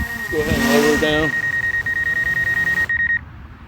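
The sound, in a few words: DJI Air 2S drone obstacle avoidance beeping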